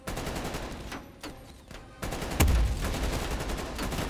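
Call of Duty Cold War gunfire, dense rapid automatic bursts and a heavy explosion-like thud midway, loud and continuous game combat.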